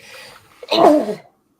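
A single sharp sneeze close up, preceded by a brief quiet intake of breath.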